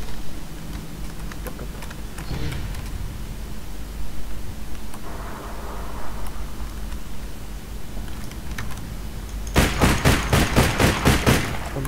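Rapid bursts of gunfire from a multiplayer video game erupt loudly near the end, a quick run of sharp repeated shots after a stretch of faint background game noise and scattered softer pops.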